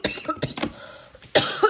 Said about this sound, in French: Désolée pour la toux.